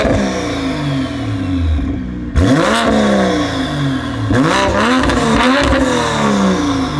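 A Toyota Supra with an HKS or Borla exhaust revs hard in a few bursts, the engine note sweeping up and falling back between blips, close and loud with a brief drop at idle.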